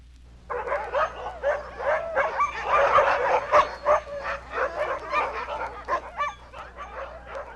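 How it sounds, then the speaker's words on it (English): A team of Alaskan sled dogs barks, yips and whimpers together in a dense, excited chorus that runs continuously for several seconds, loud and close with overlapping voices. "In the early days of Alaska's history, the dog team was the winter lifeline of transportation."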